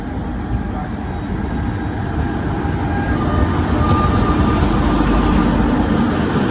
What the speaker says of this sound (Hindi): अभी प्लेटफॉर्म क्रमांक 1 से वाराणसी बहराइच इंटरसिटी एक्सप्रेस का डिपार्चर हुआ है यहाँ से।